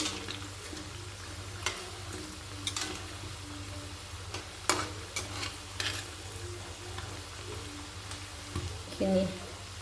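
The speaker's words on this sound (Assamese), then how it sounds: "পিঠাটো ফেলে ফ্ৰাই কৰা প্ৰায় হৈয়ে গৈছে" Bottle gourd pitha frying in a pan, a steady low sizzle with occasional ticks and scrapes of stirring, close by and fairly quiet.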